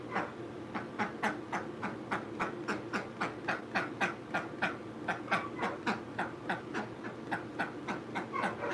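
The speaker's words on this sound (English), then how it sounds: "No, that's not the cat. That's the duck." A duck quacks in a fast, steady series of short, evenly spaced calls, faint and fairly distant over a low background hum.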